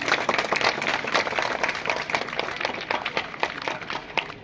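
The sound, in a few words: audience applause at a school inauguration ceremony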